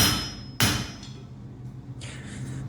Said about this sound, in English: tilt the bar slightly and hammer at an angle like this